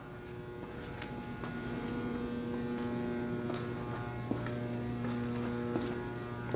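A Harig 612 handfeed surface grinder with its spindle running, giving off a steady, quiet electric hum with a constant tonal drone and a few faint ticks, heard close and alone without talk.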